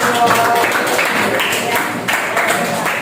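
A class applauds in a school lesson, a dense steady patter of many hands clapping throughout, moderately loud, with some voices mixed in.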